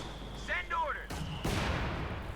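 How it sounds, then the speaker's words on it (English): Mortar fire in the real-time strategy game Company of Heroes 2, heard as distant muffled booms and a thud amid battle ambience, faint and low in level alongside chirping in-game sound effects. "Lots of mortar fire here."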